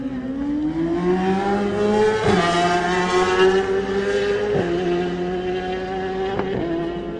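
A Tyco BMW superbike races away at the Isle of Man TT Senior race, its engine note loud and rising steadily, with sharp gear-change breaks at intervals as it accelerates, and no voices over it.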